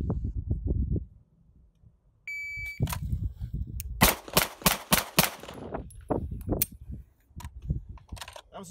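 Handgun shots fired in a shooting drill at 10 yards ring out as a quick burst of sharp, loud cracks with metallic ringing from steel targets, followed by scattered clanks and low handling noise.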